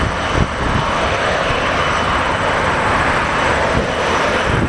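Airplane taking off at O'Hare airport, a loud, close, sustained engine roar that fills the whole stretch without fading, with no talking.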